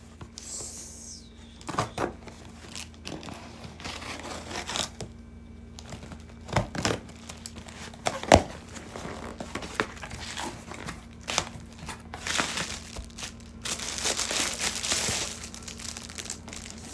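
Packaging for an LS-E525 WiFi FPV 4K drone is unboxed, with crinkling plastic and cardboard, scattered handling knocks and a sharp snap, then a louder stretch of rustling toward the end.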